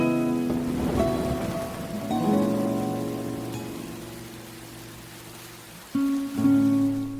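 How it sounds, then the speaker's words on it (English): Rain falls over a humid forest, a steady hiss under a tonal musical score that rises and fades, with no voices. "In this forest, the rains are very welcome, bringing a release to the humidity."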